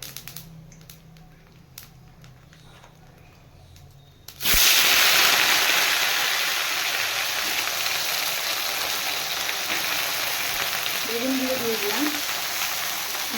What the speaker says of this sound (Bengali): তেলে অল্প কালো জিরে ফোড়ন দিলাম দিয়ে গরম হয়ে যাওয়ায় আমি বেগুনটাকে দিয়ে দিচ্ছি ছেড়ে